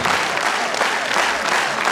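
Audience applauding at an award ceremony, the Elwa d'Or 2013, with steady dense clapping throughout at close range and no pauses.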